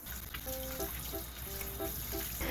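Blanched oranges being rinsed under lukewarm running water: a steady stream from a tap splashes over the fruit, with a few faint tonal squeaks and light handling sounds.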